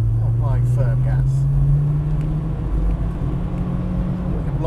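A Volkswagen Golf GTI Mk2 engine hums steadily under firm throttle from inside the car, a loud continuous drone with slowly rising pitch, while someone talks over it early on.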